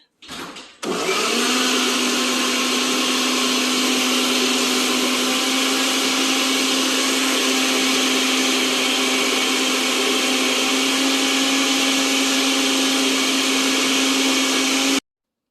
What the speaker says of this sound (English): I'm using my blender to make them very fine.